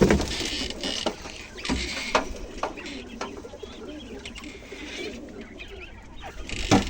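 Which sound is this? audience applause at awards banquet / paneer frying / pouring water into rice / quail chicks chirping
quail chicks chirping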